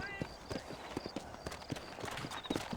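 Rhythmic clopping of horse hooves from the video game Red Dead Redemption, a quick even beat of soft thuds with game voices talking over it.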